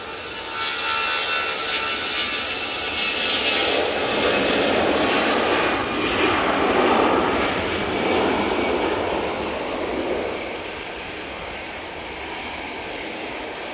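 Broad, sustained roar of an easyJet Airbus A320-200 airliner's jet engines on takeoff at Manchester Airport, swelling to a peak mid-way and then easing slightly as it departs, loud and steady with no talk.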